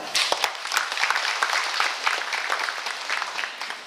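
Applause from an audience after the governor's lecture, a dense, continuous wash of many hands clapping that carries evenly throughout and fades slightly at the end, with no talking.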